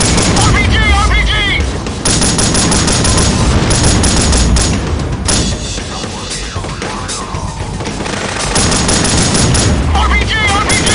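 Heavy combat in the Delta Force: Black Hawk Down video game, with dense bursts of automatic gunfire and booming RPG blasts filling the scene, loud and continuous, with shouted radio chatter mixed in.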